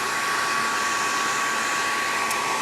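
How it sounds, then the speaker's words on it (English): A hair dryer blows steadily at close range, a constant loud whooshing hum with no breaks. "I'm going to go ahead and hit it with my hair dryer again"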